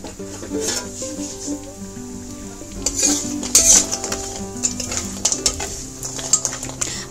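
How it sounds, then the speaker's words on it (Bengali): Lentil dumplings (bori) fry in hot oil for Bengali shukto: a steady sizzle runs under stirring and light metallic scrapes of a spatula against the pan, close by with no talk. "তেলটাও গরম হয়ে গেছে, আর এই বড়িটাকে দিয়ে দিলাম তেলে"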